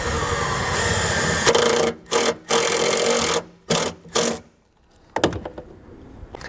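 A loud, continuous whirring power drill drives a self-tapping screw into metal on a 2019 Ford Escape, stopping and starting in several short bursts, ending with a few sharp clicks and a brief final whir.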